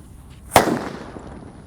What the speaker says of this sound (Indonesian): namanya mercon Bomber warna hijau